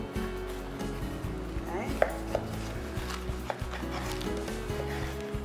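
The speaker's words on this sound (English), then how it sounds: "I'm going to cut a few ribeye steaks" A butcher's knife works through ribeye steaks on a board, giving several sharp cuts and taps over a low background hum, with one brief spoken word.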